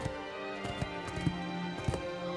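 Horse hooves clip-clop in an irregular rhythm in Shadow of the Colossus, with a faint whinny over a steady droning game ambience.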